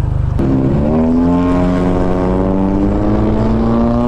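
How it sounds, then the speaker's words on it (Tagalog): Honda Click 125i scooter with a loud aftermarket exhaust muffler revving up close, a strong droning engine note rising in pitch after a brief idle putter at the start. "Lakas ng muffler ni bossing ah."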